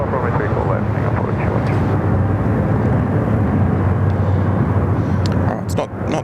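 Singapore Airlines flight 212, a jet airliner, takes off from runway 34 left at Sydney Airport, its engines a loud, sustained roar holding steady before easing slightly near the end.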